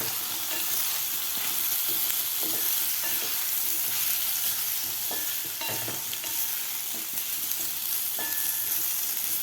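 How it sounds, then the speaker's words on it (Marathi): Cut potatoes stirred into a spicy masala in a pan for potato rassa, giving a steady close frying sizzle with scraping spoon strokes throughout, no talking. "बटाटासुद्धा आपल्याला व्यवस्थित या मसाल्यामध्ये व्यवस्थित हलवून घ्यायचा आहे"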